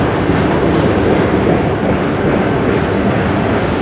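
A train rolls along rails, steady loud rumble with rattling wheels throughout, close and continuous, with no talking.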